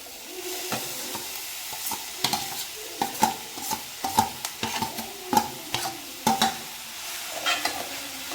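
Cabbage is stirred into sautéed onions and fennel powder in a hot pan, a soft hiss broken by repeated scraping spatula strokes in an uneven rhythm, close and without talk.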